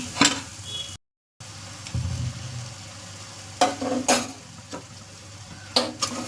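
Liver curry with green chillies fries in a pan, a soft continuous sizzle broken by a few sharp stirring scrapes and clinks of a utensil against the pan, close and moderately quiet with no talk.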